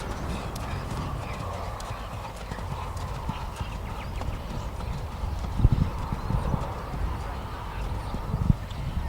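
A horse's hooves beat in a steady, muffled rhythm on an arena surface during a Grand Prix dressage test, mixed with background noise and a commentator talking throughout.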